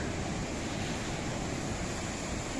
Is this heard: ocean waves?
yes